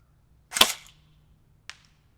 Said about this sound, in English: we're going to send a few shots of semi-automatic